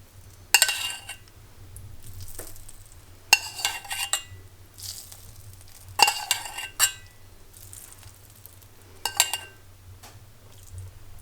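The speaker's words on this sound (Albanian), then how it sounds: "Gjalpën e skuqun, ja qesim" Fried butter poured into a pot of Shkodra stew, heard as several bright clinking, splashing bursts of metal and liquid spaced a few seconds apart over a low steady hum, with no talking.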